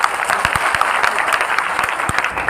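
An audience claps loudly and continuously, dense and fast, close by and without pause.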